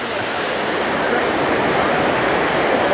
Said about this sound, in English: take some pictures of this waterfall. Something tells me the episode image today is going to be Jeongbang Waterfall